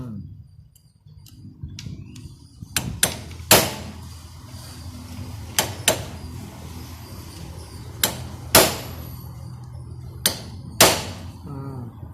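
Sharp metallic hammer blows driving out a motorcycle chain pin ring out at irregular intervals, about a dozen strikes, loud and close, with quiet pauses between.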